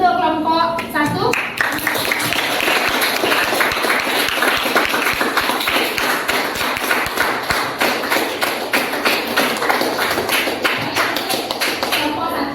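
Classroom applause for a student group: many hands clapping steadily and loudly for several seconds, with a few voices in the room at the start.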